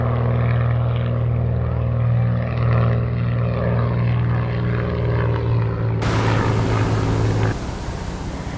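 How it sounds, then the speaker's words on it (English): A propeller banner plane flies over a beach at Orange Beach, Alabama, its engine drone steady and fairly loud with a throbbing low hum that holds for several seconds before easing off slightly near the end. "The banner plane flying over."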